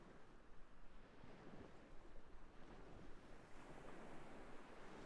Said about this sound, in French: J'entends le bruit des vagues et je commence à visualiser une plage.